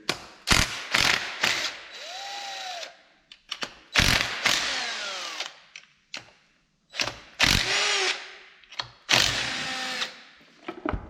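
Ratchet loosening 8mm valve cover bolts on a Chevrolet Silverado engine, repeated bursts of rapid close clicking separated by short pauses, with some metallic scraping between strokes.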